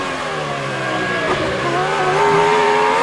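David Coulthard's Formula 1 car screams at high revs at the Austrian Grand Prix, the engine pitch climbing and falling through gear changes, loud and close, with no talk.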